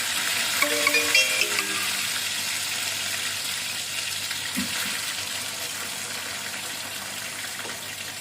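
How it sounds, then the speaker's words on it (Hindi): Green chillies frying in a little hot oil, a steady close sizzle that runs throughout with a few light clinks and stirring noises, no talking. "गरम करने के लिए, थोड़ा सा ऑयल के साथ। और इसमें हम डालते हैं अपनी हरी मिर्चें थोड़ी सी।"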